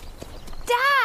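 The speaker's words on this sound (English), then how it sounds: "I wonder if the horses feel the same" Horses clip-clop at a walk or trot over ground, then one neighs loudly near the end, a rising and falling whinny over a steady outdoor background.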